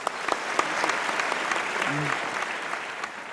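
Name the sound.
audience applause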